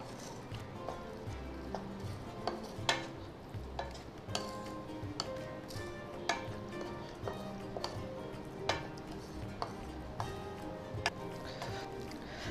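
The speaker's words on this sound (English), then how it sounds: "So just mix this and cook this." Motichoor ladoo mixture being stirred and cooked in a pan, with soft scraping strokes and irregular clicks of a spoon against the pan repeating steadily at a moderate level, with no talk.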